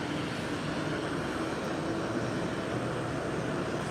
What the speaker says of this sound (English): we have the 737-700 right there and the CRJ-900 taxiing right at it